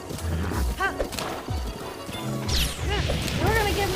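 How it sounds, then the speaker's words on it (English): A horse in Zelda: Breath of the Wild neighs with several rising-and-falling whinnies over thudding hoofbeats and crashing impacts, loud and close, with a voice talking excitedly over the game sounds. "You stupid horse."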